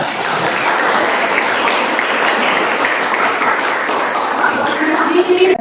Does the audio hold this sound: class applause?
yes